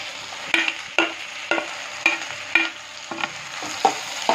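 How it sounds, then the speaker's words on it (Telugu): Tomatoes with onions, chillies and garlic fry in a pan for prawn curry, with a soft steady sizzle under rhythmic utensil scrapes about every half second. "టమాటా ఫ్రై చేసుకోవాలన్నమాట."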